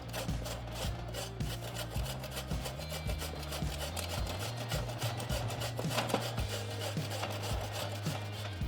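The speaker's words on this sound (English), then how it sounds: "I am going to grate this right over." Zucchini grated by hand over a box grater into a measuring cup, a steady rhythmic rasping scrape repeating close up, with no talking.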